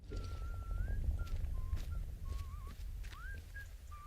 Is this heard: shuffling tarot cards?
no